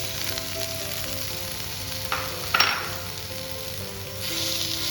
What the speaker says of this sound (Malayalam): ഈ തക്കാളി നല്ല വെന്തുടയുന്നിടം വരെ ഒന്ന് വഴറ്റി വേവിച്ചെടുക്കാം.